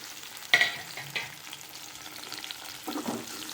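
Tomatoes and green chillies sauté in a pan with a soft, low sizzle, punctuated by a sharp scrape of a spoon early on and a couple of gentler stirring strokes later.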